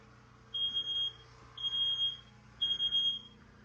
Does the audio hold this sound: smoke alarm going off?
yes